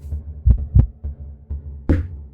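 Low, throbbing game heartbeat from Heart Sequence, a minimalist roguelike deck-builder, thumping four or five times at an uneven pace, with the last beat the sharpest and brightest, over a steady soft hum.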